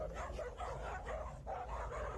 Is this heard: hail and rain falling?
no